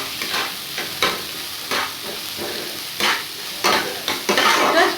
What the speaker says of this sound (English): Just for half a minute we need to fry the onions.